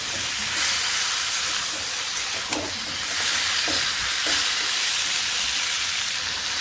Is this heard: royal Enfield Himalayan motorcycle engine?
no